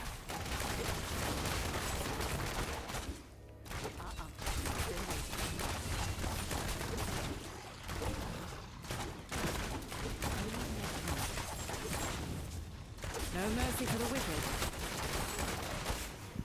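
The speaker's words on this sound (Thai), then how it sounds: "ยิง สนุก ดี เสียงยิงอย่างมันนะ" Continuous bursts of rapid gunfire and booms from the Diablo Immortal video game, dense and loud throughout with brief lulls, with a voice talking over the combat.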